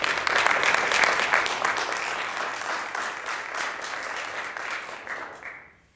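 Applause fills the room at a Germantown Board of Mayor and Aldermen meeting, strong and sustained at first, then gradually tapering and dropping to silence at the very end.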